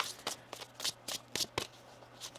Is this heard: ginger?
no